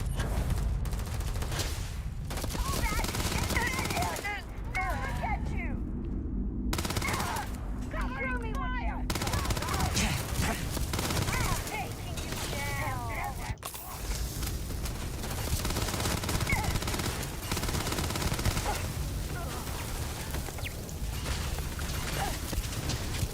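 Rapid bursts of turret gunfire in the space RPG Starfield, dense continuous shooting and impacts over game noise, with a player talking now and then over the barrage.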